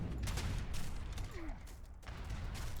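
Heavy cannon fire in the real-time strategy game Age of Empires II, a dense, sustained barrage of booming blasts during a late-game free-for-all battle, loud and continuous.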